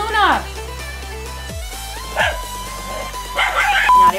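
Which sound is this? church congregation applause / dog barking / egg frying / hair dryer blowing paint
dog barking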